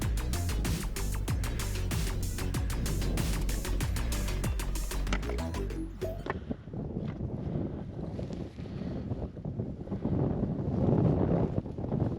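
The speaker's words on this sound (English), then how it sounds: "Back into the wind." Strong wind buffets the microphone on a mountain ridge near Mount Chapin in Rocky Mountain National Park, a loud continuous roar with gusts that briefly ease then rush back, with no talking.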